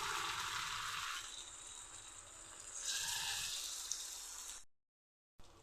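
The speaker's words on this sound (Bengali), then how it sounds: "এখন কড়াতে একটা একটা করে দিয়ে ভেজে নেব" Cauliflower and egg pieces fry in oil in a wok, giving a steady, fairly close broadband sizzle that swells briefly midway, then cuts to silence before resuming for a moment at the end.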